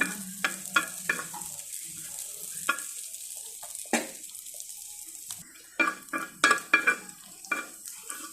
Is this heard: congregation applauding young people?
no